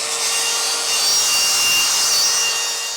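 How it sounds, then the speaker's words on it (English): Abrasive grinding on a rusty steel I-beam, a steady high, hissing scrape held loud and close for the whole stretch with no pauses and no voices. "I'm going to start by grinding off the rust for the area that I'm going to be welding"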